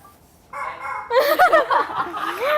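A chicken-like call, rising warbled crowing and clucking notes of medium loudness, begins about midway after a brief softer tone and runs to the end with no talking.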